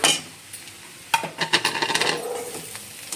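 Garam masala spices and ginger go into a pan for a Konkani-style mushroom masala, with a clatter of spoon and pan followed by close stirring scrapes and a light sizzle.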